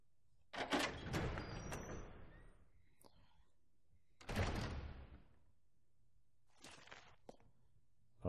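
Doors creak and rumble open in the survival-horror game Resident Evil 0, three separate bursts of varying length, each loud and close over a low ambient hum, with a faint click between them.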